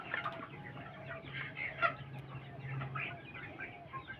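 Sonali chickens, 51 days old, cluck continuously in a poultry shed, a busy overlapping flock chatter with a low steady hum beneath it.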